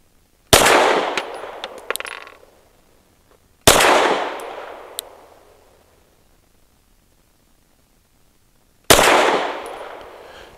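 Three loud, sharp shots from an EAA Girsan Witness 2311 pistol at an outdoor range, each a crisp crack with a ringing tail, spaced irregularly several seconds apart.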